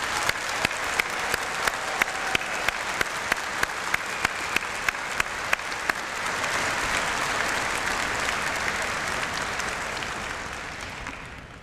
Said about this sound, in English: Let's give a round of applause to the newest members of our graduating class.